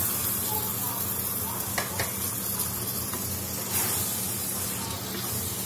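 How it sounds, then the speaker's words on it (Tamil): Fish frying with softened tomatoes in a pan and being mixed, a constant close sizzle with a few scraping stir sounds and faint background talk. "மீனை போட்டு நல்லா மிக்ஸ் பண்ணிடுவோம்"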